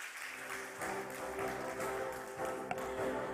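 Audience applause at an Asian insurance awards ceremony: steady, moderately loud clapping from a crowd in a hall, continuous for the whole stretch with a low hum underneath and one sharp tap near the end.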